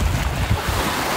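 Sea waves wash onto the shore near a house in Denmark, a dense rushing surf mixed with wind buffeting the microphone, loud and continuous.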